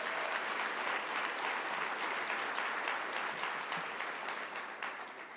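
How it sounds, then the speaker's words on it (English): Sustained applause from an audience at a county State of the County address, dense and steady throughout, fading slightly toward the end. "Let's give them a round of applause."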